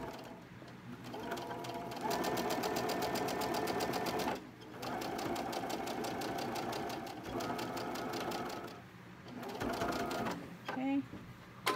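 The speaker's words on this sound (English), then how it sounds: "as I go ahead and sew it" A sewing machine stitches the pieces of a teacup quilt block, running in rapid, steady bursts several seconds long, separated by short pauses, close and clear.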